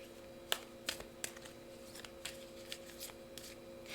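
A tarot card is drawn from the deck close by, a quiet series of soft card slaps and flicks with a steady low hum underneath.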